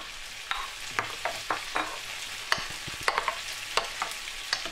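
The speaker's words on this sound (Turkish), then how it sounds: "yavaş yavaş zeytinyağımızı tekrardan ilave ediyorum" Olive oil, about two to three tablespoons, is being stirred into pizza sauce in a pan, with a quiet background sizzle broken by a series of short scraping and clinking stir sounds at an uneven rhythm.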